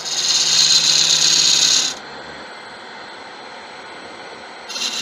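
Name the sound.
wood turning with a smaller gouge on a lathe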